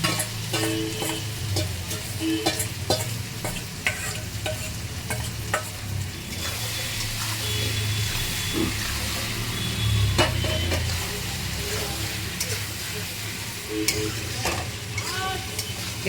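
Cauliflower florets stir-fried with mixed colourful vegetables in a pan over a high gas flame for chilli cauliflower: continuous loud sizzling with repeated scraping and clinking of a spatula against the pan.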